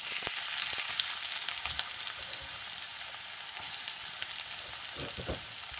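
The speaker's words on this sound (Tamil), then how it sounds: "வெங்காயம் நல்லா வதங்கணும்" Onions sautéing in oil with popped mustard seeds and fenugreek, a steady moderate sizzle up close with occasional soft stirring scrapes and crackles.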